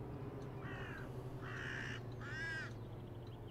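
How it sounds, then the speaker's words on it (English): Crows cawing in the OMSI 2 bus simulator video game: three harsh caws, rising in strength, over a steady low engine-like hum, at moderate distance. "There's definitely a lot of crows on this map."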